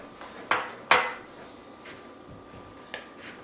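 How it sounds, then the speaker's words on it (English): Veggie dumpling filling stirred in a bowl: two sharp clanks of the utensil against the dish early on, then softer scrapes and one more light knock, close and with no voices. "Give it a good stir"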